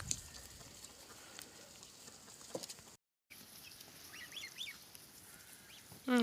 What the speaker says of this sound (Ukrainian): Вже такі не піщать, а приквакують.